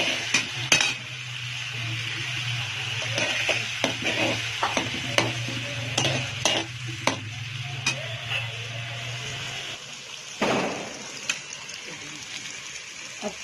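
Onions frying in a pan for chicken macaroni, a steady sizzle with frequent clinks and scrapes of a spoon against the pan, a low hum underneath and a louder clatter near the end.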